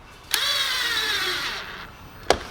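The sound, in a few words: rattle gun tightening throttle body clamp on Hyundai Getz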